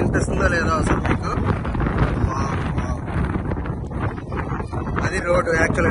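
Strong wind buffets the microphone on a hilltop at Ananthagiri Hills, a continuous loud roaring rumble throughout, with a person talking over it.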